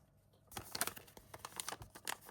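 A plastic pyjama packet is picked up and crinkled nearby, giving a quiet start followed by a burst of sharp, uneven rustling and crackling that carries on for about two seconds.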